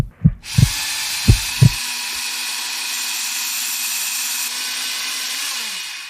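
A chipped knife edge being ground on a powered grinder: a few low thumps, then a loud continuous whirring hiss of abrasive on steel that holds steadily for several seconds before the motor winds down at the end.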